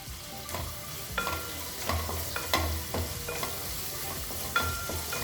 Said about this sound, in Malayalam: ഇനി ഇത് നന്നായിട്ടൊന്ന് വഴറ്റി കൊടുക്കാം